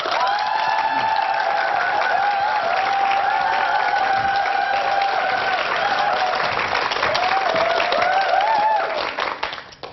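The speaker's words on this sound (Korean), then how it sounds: "이재한 부회장님을 여러분 뜨거운 박수로 초대하겠습니다" A studio audience at a televised lecture claps warmly to welcome a business association vice-chairman to the stage, a broad continuous applause blended with upbeat walk-on music that fades out near the end.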